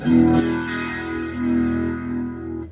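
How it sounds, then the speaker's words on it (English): A sustained guitar chord through an Electro-Harmonix Leslie rotary speaker effect pedal swirls with a pulsing, rotating-speaker wobble, the tone swelling and receding, slightly overdriven and close. "Really brings out the Leslie sound."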